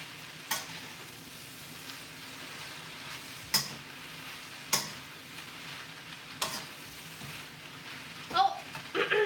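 Stir fry being stirred in a pan with peppers: a steady sizzle runs throughout, broken by several sharp scraping strokes and a few clattering knocks near the end.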